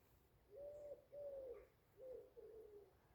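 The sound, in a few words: morning birdsong at camp near Talacre Abbey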